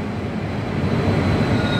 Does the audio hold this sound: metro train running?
yes